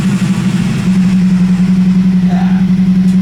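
A Honda VF1000 engine fitted in a homebuilt buggy runs steadily at a loud, even idle after starting, its low drone close and continuous throughout.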